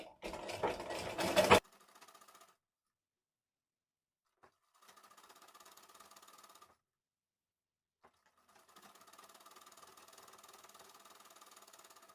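A sewing machine stitches the shoulder seam of a blouse in three separate runs of steady, fairly faint whirring, split by pauses, after a short burst of louder handling noise.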